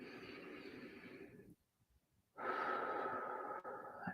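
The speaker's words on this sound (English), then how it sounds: "Breathe in" A slow, deep inhale in a quiet guided meditation, a long airy breath that fades into a short pause before a second, steadier breath follows, close and alone with no talking.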